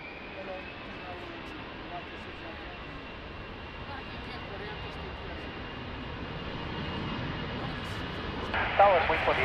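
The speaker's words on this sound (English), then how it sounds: "Immediate takeoff." Airliner engines rumble steadily at Lisbon Airport on a rainy morning, a broad continuous roar building slightly toward the end, with radio chatter between pilots and tower over it.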